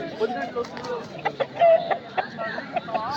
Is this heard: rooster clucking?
yes